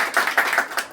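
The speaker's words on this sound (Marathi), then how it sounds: "आपल्याला जोरदार टाळ्या वाजवूया" An audience at a school birthday felicitation claps in a short burst, several quick sharp hand claps in a fairly even rhythm, close and loud.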